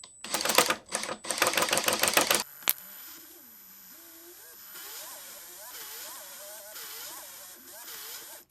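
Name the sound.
DIY drill-powered grease gun running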